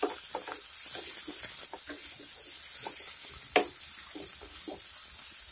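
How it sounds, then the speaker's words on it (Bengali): Tomato and turmeric stir-fried in a pan for ridge gourd masoor dal give a steady close sizzle, with soft spatula scrapes repeating throughout and one sharper knock near the middle. "এখন এইগুলির কাঁচা গন্ধ চলে যাওয়া পর্যন্ত এইগুলিকে আবারও হালকা একটু নেড়েচেড়ে কষিয়ে নিতে হবে"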